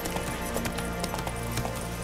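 A horse gallops in the video game The Witcher 3: Wild Hunt, with steady, loud, rapid clip-clop hoofbeats over a constant low rumble and a game music bed.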